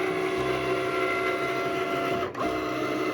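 A Cricut Maker cutting machine runs through a mat cut, giving a loud, steady mechanical whir and hum close by that continues throughout, with one brief dip partway through and no talking.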